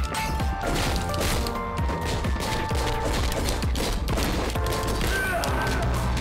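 A dense, continuous barrage of gunshots and crashing impacts from the action game Katana Zero, loud and unbroken, with bullets striking the player amid the chaos.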